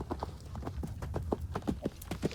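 A horse's hooves clip-clop in a steady rhythm, close and moderately loud, with a little background noise.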